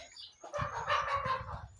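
Chickens cluck and murmur inside a backyard chicken coop, a soft, busy chorus of overlapping calls at moderate distance.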